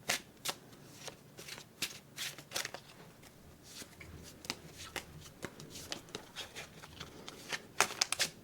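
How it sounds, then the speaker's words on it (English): Playing cards, slightly sticky, being shuffled by hand between solitaire games: a quiet, close series of quick riffles and snapping card flicks in uneven bursts, with no talking. "Let's shuffle up for game 2."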